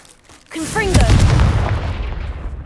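A Confringo blast spell in Hogwarts Legacy: a brief whooshing chirp of casting, then a loud, booming explosive impact that rumbles and slowly fades, up close and alone.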